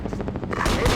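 Rapid gunfire in the video game Ghost Recon Advanced Warfighter, a quick run of close, punchy shots in under a second followed by a noisier rumbling burst.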